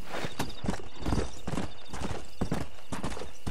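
Horse hooves clip-clop in a steady walking rhythm in Red Dead Redemption 2, the mount a Kentucky Saddler; the clear, close hoofbeats sound alone with no talk over them.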